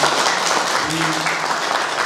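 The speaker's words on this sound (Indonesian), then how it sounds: "Tepuk tangan dulu untuk Mas Oni." An audience at a cultural gathering and Macapatan performance marking Indonesia's National Education Day bursts into dense, steady applause that fills the whole short stretch, fairly loud and close.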